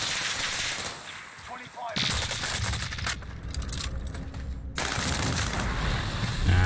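Dense, continuous automatic gunfire from a Call of Duty match, loud and steady with a brief lull near the middle before bursts resume, with occasional voices beneath.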